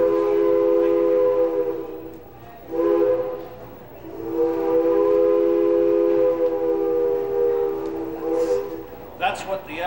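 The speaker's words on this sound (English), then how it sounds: "That's what the LNER whistle sounded like. The A4 has a chime whistle, not a pipsqueak whistle." An LNER A4 steam locomotive's chime whistle sounds in long, loud harmonic blasts, one short then a sustained call, with brief pauses between; a voice briefly at the end.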